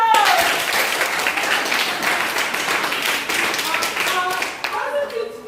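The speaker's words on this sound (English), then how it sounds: "If you are happy, clap for yourself." Symposium attendees clap for themselves in a dense, steady burst of applause that fills the room, with voices over it and a tapering toward the end.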